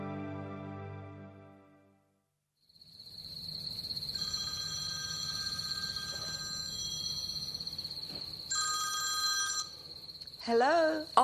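A telephone rings at night with a steady, high electronic trill that continues for several seconds. It is moderately close, over faint background noise, and a voice briefly speaks near the end.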